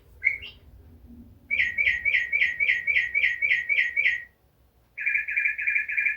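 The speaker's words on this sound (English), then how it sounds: "bird clock. It's 1 o'clock." A bird clock chiming one o'clock with a bright, repeated electronic birdsong: one short chirp, then a rapid run of about nine even tweets, a brief pause, and a faster trilling burst, close and clear.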